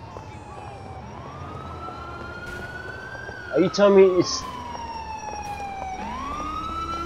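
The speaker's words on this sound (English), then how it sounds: "Oh my gosh, it's the fucking ambulance." A wailing ambulance siren from GTA 4 rises and falls in long sweeping tones across the whole stretch, mid-distance and steady, with a brief burst of other game sounds in the middle and someone talking over it.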